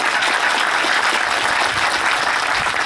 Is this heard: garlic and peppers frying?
no